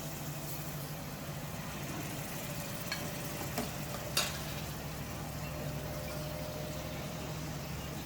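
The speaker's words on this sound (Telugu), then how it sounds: "వేసుకున్నాక నిదానంగా తిప్పుకోవాలి ఈ మసాలా ఇటు కూడా పట్టేలాగా" A fish curry masala sizzles quietly in a pan while being stirred slowly. A steady low fry hum runs throughout, with a few faint scrapes and one brief clink.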